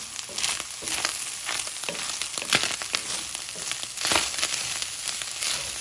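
Ground beef frying in a cast iron skillet for homemade Manwich, a steady loud sizzle and crackle with occasional scraping stirs, heard alone without talk.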